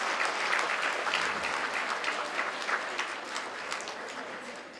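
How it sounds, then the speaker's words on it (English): Steady applause from a large crowd at a gala dinner, many hands clapping continuously, fading slightly toward the end. "A round of applause and prayers."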